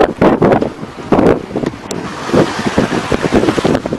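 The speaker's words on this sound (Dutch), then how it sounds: "de wind gunstig is, het schip op koers ligt en met een behoorlijke snelheid de golven doorklieft" A sailing ship under sail driving through waves at good speed in a favourable wind, with gusts buffeting close and loud and bursts of water washing against the hull in an irregular rhythm.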